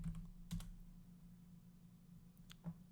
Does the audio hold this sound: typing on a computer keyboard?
yes